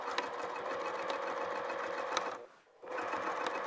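A sewing machine back stitching the seam of a holiday stocking at a 3mm stitch length, a steady close mechanical whir with regular needle clatter that stops briefly and then starts again.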